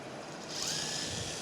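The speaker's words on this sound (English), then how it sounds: "Heavy drill, isn't it?" A heavy power drill whirring steadily in a woodworking shop during steam bending, its pitch rising slightly as it spins up over a rough background noise.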